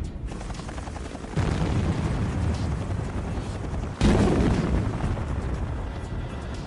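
A helicopter-triggered hydrogen-oxygen gas charge set off for avalanche control on a snowy mountain slope beside a highway booms twice, a few seconds apart, each blast a loud, broad roar that lingers over steady rumbling noise.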